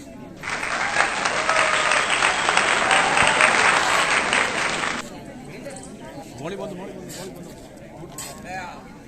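Loud audience applause at a fresher party for first-year physical education students, a dense wash of clapping lasting about five seconds before giving way to quieter murmuring and scattered voices.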